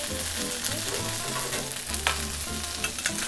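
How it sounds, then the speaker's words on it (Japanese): Bone-in roast chicken, skin side down in a hot pan, sizzles steadily and loudly for a few seconds, with crackling pops over a low, constant hiss and no voices. "じゃあ最後もう一回皮目をパリッと焼きます"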